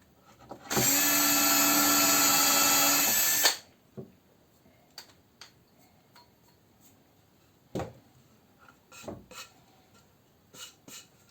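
A power drill bores through a wooden piece for a small spice niche in a woodworking shop, one loud steady whine lasting about three seconds. After it stops come scattered clicks and light handling knocks from the workpiece.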